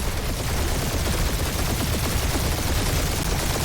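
Rapid gunfire from turret guns in the Guardians of the Galaxy video game rattles in a dense, continuous stream of overlapping bursts, loud and close with no voices.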